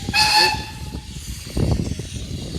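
A short, shrill steam whistle blasts at the start, followed by hissing and rumbling train noise.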